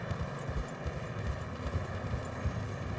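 Horse hooves clip-clop steadily during riding in Red Dead Redemption 2, a continuous rhythmic pattern of low thuds over a constant outdoor ambience, fairly loud and up close with no talking.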